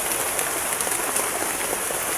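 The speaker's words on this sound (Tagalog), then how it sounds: "Nabutan kami ng ulan dito sa bundok." Steady rain pours on a mountainside in the Philippines, a dense, even hiss of drops hitting leaves and ground with no break and no voices.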